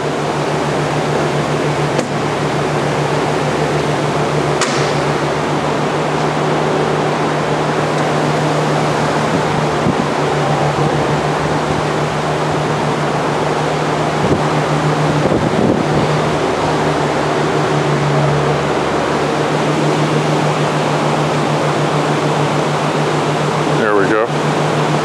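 A saw cuts a tall, narrow 24-inch tooling board workpiece stood on end, a loud steady droning hum that runs throughout with a few faint knocks.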